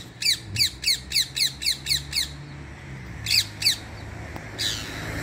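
Rose-ringed parakeet squawking at a Christmas market, a rapid series of eight harsh, loud calls, a pause, then two more and a final rougher cry over low outdoor crowd rumble.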